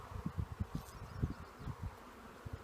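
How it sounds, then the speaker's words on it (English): Honey bees buzz around an open hive during an inspection, a faint low hum with soft pulsing swells, close but quiet, with light rustling. "They're great looking bees."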